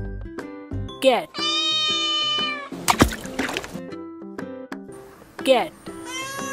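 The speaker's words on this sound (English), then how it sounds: "Cat." A series of meows from a toy cat, several in quick succession with rising and falling pitch, mixed with other short animal sounds and a brief splashy burst in the middle.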